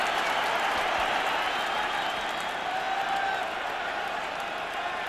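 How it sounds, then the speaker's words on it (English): A large rugby crowd at Cardiff in 1993, Wales against England in the Five Nations, roars and applauds steadily after a successful kick, a dense, sustained wall of cheering and clapping. "The crowd are delighted as well."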